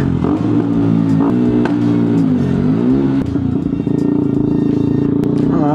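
A motorcycle engine revs up and down nearby in a continuous loud rumble with swelling pitch changes, mixed with light mechanical clatter.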